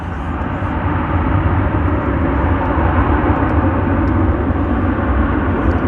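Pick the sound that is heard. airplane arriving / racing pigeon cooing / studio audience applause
airplane arriving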